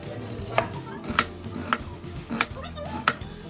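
Onion being chopped with a knife on a cutting board for beef machado, with about five sharp, evenly spaced knife strikes standing out close and clear over low kitchen background noise.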